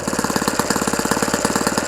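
OS FS 120 Surpass four-stroke model engine running slightly rich, a fast steady chugging beat with loud even pulses, close and continuous with no talk.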